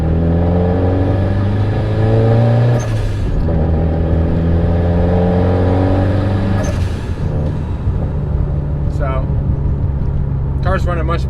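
A turbocharged CD5 Honda Accord accelerates hard, its engine note climbing through gear changes with a loud, continuous roar and brief whooshing releases between shifts.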